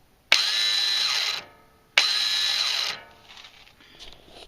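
An electric starter on an 18 hp Briggs & Stratton horizontal opposed-twin engine spins freely on stripped nylon gears: two loud, close whirring bursts of about a second each, followed by faint rattling.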